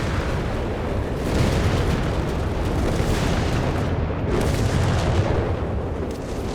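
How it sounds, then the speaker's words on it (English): Artillery strike explosions in Company of Heroes 3, a dense, continuous rumble of booms and bursts rolling together at steady loudness with no clear gaps, heavy low end throughout. "Artillery called in."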